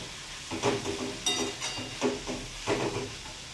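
Fenugreek leaves and dried shrimp (javla) sizzle in a pan and get stirred and tossed, making a soft continuous frying hiss broken by about four rhythmic scraping pushes of the spatula, close by with no voices.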